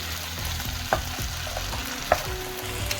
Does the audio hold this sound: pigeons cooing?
no